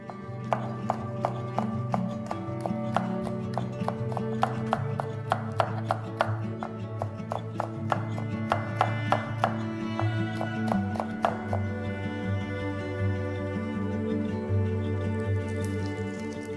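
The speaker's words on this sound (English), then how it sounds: "One long green chili pepper, finely chopped." A long green chili pepper being finely chopped, with quick, regular knife taps on a board through most of the stretch, set against steady background music.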